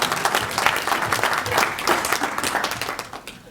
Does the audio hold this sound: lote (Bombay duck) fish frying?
no